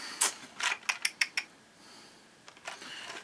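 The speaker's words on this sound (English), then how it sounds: "I'm going to get a couple screws in this and hold it in place." Screws being driven into a Phoenix Models Genesis model kit: a quick run of five or six close, crisp ratcheting clicks, then a pause and softer scraping.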